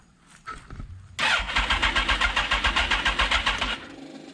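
A Suzuki GSX-R1000 K4 motorcycle engine, being jump-started, cranks briefly, then catches and runs with a loud, rapid pulsing rhythm for a couple of seconds before settling down.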